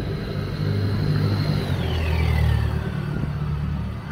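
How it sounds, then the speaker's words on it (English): A noisy small car drives past on a narrow old-town street, a low rumbling engine swelling as it nears and fading as it goes by, with a faint high whine sliding downward beneath the steady outdoor background. "And that's a noisy little car."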